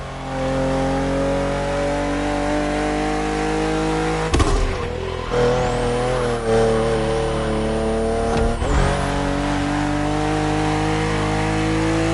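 A BMW M4 CSL in the racing game The Crew Motorfest roars under hard acceleration, its engine climbing through the revs with quick gear-shift breaks, loud and continuous with no talking.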